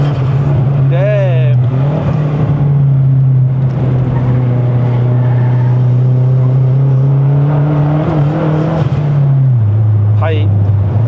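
A modified, fully converted Mazda 3 MPS accelerates hard on a mountain road run in Malaysia, its engine droning loud and close from inside the cabin and rising in pitch. People talk over the engine.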